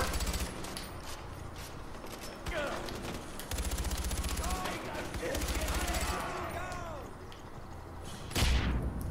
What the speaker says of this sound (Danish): jeg bliver bare skudt på for alle sider nu